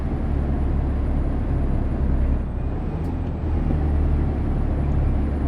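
Truck climbing a hill in American Truck Simulator, a steady low heavy engine drone with road rumble, loud and continuous, a brief dip midway.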